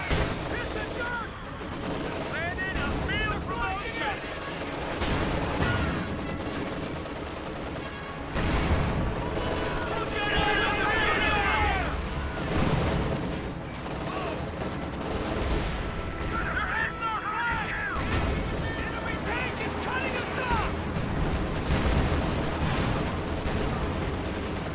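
Field guns and artillery fire in the WWII strategy game Company of Heroes, with repeated sharp blasts and bursts of gunfire over a dense battle din, loud and close throughout.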